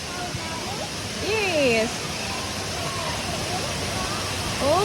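A waterfall gives a steady broadband rush of falling water close by, while several people talk and exclaim over the roar.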